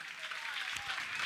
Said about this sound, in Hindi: आपकी ये तालियां तो बजना चाहिए।